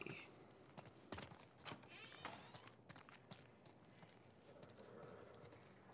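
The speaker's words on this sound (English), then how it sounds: "Oh, it's the horse." A horse's hooves clip-clopping at an uneven pace in the video game The Last of Us Part I, with faint whinny-like sounds and quiet background noise.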